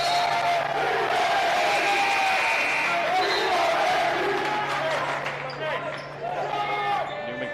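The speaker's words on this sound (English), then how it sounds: "Newman crowd making a lot of noise as Thor Boswell checks in now" A high school basketball crowd at Cardinal Newman roars steadily, with cheering and shouting filling the gym, ball bounces and sneaker squeaks mixed in, easing slightly toward the end.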